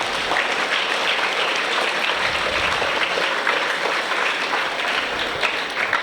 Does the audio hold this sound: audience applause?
yes